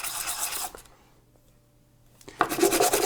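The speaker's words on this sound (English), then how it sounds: "the sandpaper will smooth all of that out" Sandpaper rubs over the clipped edge of a home-poured silver bar: a close, raspy scraping burst, a pause of near silence, then another loud rasping stroke.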